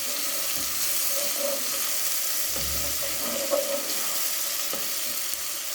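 Onion, ginger and garlic frying in a pan for a gobi sabzi, a loud, steady, close sizzle and hiss with a few faint stirring knocks.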